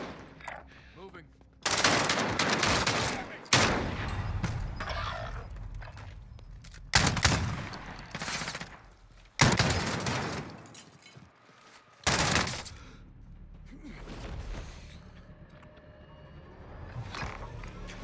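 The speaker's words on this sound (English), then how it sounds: "Taking fire! Under fire!" Bursts of loud automatic gunfire from the video game Warzone come in several separate volleys, some long and sustained, others short, with quieter battle noise and rumble filling the gaps between them.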